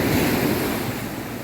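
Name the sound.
sea waves breaking on a Caribbean beach at dawn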